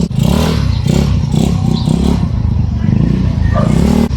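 Motorcycle engine droning steadily as it climbs an uphill road on a market run, loud and close with constant low rumble and some clatter throughout.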